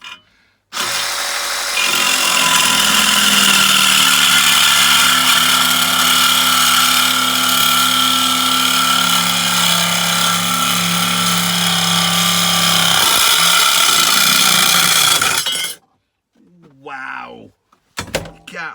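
An Evolution reciprocating saw cuts stainless steel held low in a vise, a loud, harsh, sustained buzzing whine for about fourteen seconds before stopping abruptly, followed by a few faint clatters.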